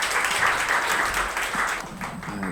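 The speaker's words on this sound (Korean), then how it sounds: "큰 박수로 함께 해주십시오." Sustained audience applause welcoming author and hot-place planner Yoo Jeong-su to the stage at a talk concert on space branding, a dense steady wash of clapping filling the room throughout.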